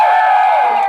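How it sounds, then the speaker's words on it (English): Outdoor protest crowd cheering and whooping in a brief, loud, continuous burst. "Let's give her a bit of a cheer"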